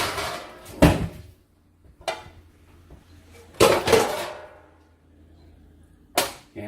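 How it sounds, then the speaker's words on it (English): A metal pan is pulled out in a kitchen while stuffed bell peppers are being made, with several sharp clanks and knocks at irregular intervals, some loud and close, separated by quieter gaps. "And we grab a pan."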